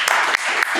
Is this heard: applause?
yes